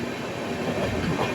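Vivek Express train running on rails between New Bongaigaon and Guwahati: a steady, close, broadband rumble with clattering wheel noise, no talk.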